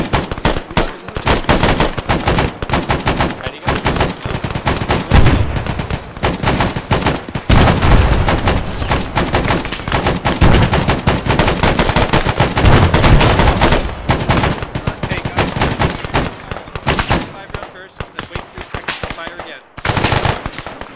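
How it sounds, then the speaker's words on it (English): An M60 machine gun fires long, rapid bursts at close range, loud and nearly continuous with only brief pauses. "Get that M60 up"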